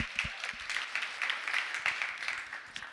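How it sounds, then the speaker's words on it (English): Applause from an audience at a courtside chat event, a steady wash of many hands clapping at moderate, fairly distant level for a few seconds, without talk over it. "round of applause."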